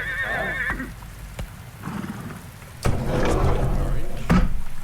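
A cart horse gives a whinny at the start, followed by thuds, creaks and rain-like patter as the cart rolls and stops, with voices talking over it.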